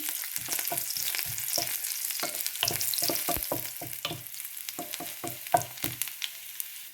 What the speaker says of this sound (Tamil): இப்போ இந்த உள்ளி போடுறேன்.